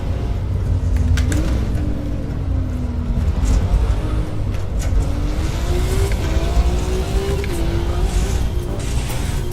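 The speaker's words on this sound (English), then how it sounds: "Yeah, I got a flat tire. Hear it rumbling." A race car in Forza Motorsport running on a flat tire, a steady close engine drone and low rumble throughout, with a wavering engine tone rising and falling and occasional clicks.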